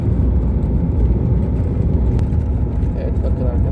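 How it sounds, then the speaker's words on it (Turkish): Steady road traffic noise from cars passing on a rural road on the way to Bartın, a continuous loud rumble with no break. "İnşallah araba sesleri size rahatsız etmez"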